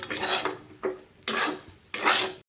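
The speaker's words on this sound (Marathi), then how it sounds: "वाटाण्याचा कच्चेपणा कमी होईपर्यंत मी असा वाटाणे ना छान असा भाजून घेणार आहे." Green peas and sesame seeds dry-roasting in a pan, stirred in three separate bursts of scraping and rattling against the metal, close and moderately loud with short pauses between, no voices.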